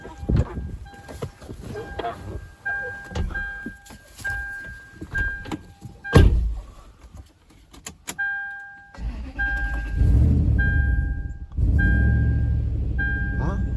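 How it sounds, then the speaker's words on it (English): A 2004 Toyota 4Runner engine with a mass airflow sensor fault cranks and catches, then settles into a steady idle while a repeating electronic chime beeps; a person talks briefly over it. "Let's start the engine."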